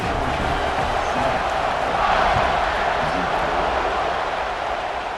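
Stadium crowd in the College Football 26 video game, a dense continuous roar of many voices swelling slightly midway, loud and steady throughout.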